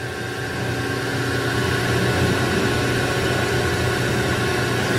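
The spindle of a 2011 Haas VF9/40 vertical CNC machining center running steadily at 2,000 RPM, a loud continuous broadband whir with a faint tonal hum that holds even throughout.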